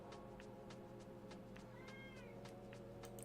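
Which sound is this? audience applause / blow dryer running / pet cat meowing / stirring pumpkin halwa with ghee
pet cat meowing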